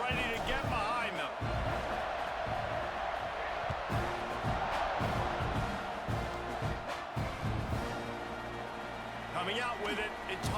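A stadium crowd roars continuously in EA Sports College Football 26 as a kickoff approaches, a broad, sustained wash of cheering with scattered thumps, layered under a commentator's voice throughout.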